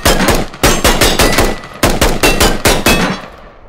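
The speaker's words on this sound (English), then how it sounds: "You can fire from the hip" A rifle fires from the hip in the video game Squad in rapid full-auto bursts, sharp loud cracks repeating in two strings with a short pause between, then fading out.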